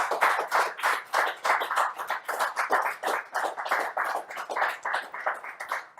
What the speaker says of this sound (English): Let's get a round of applause up in here